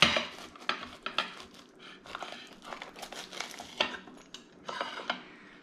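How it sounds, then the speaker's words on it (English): A knife cuts through the crispy crust of a pizza made from overproofed old dough, giving a series of sharp crackling crunches and scrapes, close and fairly quiet, with brief pauses between strokes. "let's go ahead and get a cut into this, and then we'll get some pesto. As you can hear, nice and crispy."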